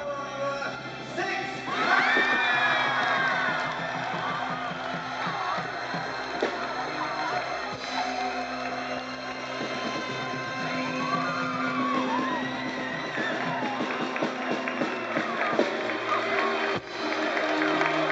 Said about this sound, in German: bitte jetzt gleich einen großen Applaus für die Kandidatin